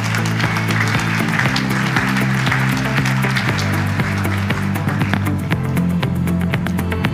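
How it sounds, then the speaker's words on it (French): Gala audience applauding Jean-François at a directors' evening, a steady patter of clapping sustained throughout beneath a loud, continuous musical backing. "Je pense qu'on peut applaudir Jean-François, s'il vous plaît."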